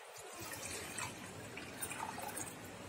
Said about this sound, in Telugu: నేను వాటర్ తీసుకుంటున్నాను 2 లీటర్స్ వాటర్ తీసుకుంటానండి